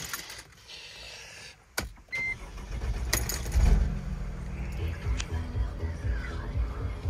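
A 2012 Mercedes-Benz G 350 CDI diesel starts up: a short mechanical whir and clunk, then a low, steady engine rumble rising and settling into idle close by, with faint voices in the background.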